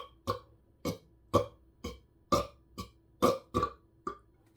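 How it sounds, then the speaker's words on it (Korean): A man burps deliberately, forcing out about nine short, gurgling bursts that sound like bubbles popping, spaced at roughly even intervals with quiet gaps between them. No one speaks. "크크크크 하면서 이렇게 트림을 하는 건데"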